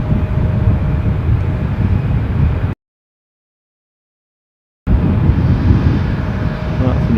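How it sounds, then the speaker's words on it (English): An Embraer 190 passenger jet at Dusseldorf airport produces a loud, steady engine roar with wind buffeting. The sound cuts out completely for about two seconds partway through, then resumes. "That's an Embraer of some sort. 190."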